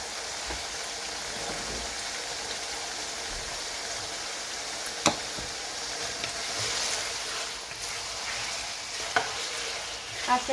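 Chicken karahi fries in a pan with spices, a steady crackling sizzle that runs throughout with a few louder pops and clicks, close and fairly quiet, no voices.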